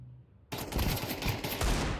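Bursts of AK rifle fire in the Counter-Strike video game, loud and close, starting abruptly after a quiet moment and continuing as rapid, dense automatic shots with brief gaps.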